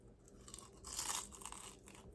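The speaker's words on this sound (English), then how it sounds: "so you can figure out what it's like to crunch the tail of the fish" Close, crisp crunching and chewing on a fried fish tail, with irregular bites building to a louder crackling burst in the middle before tapering off into softer chews.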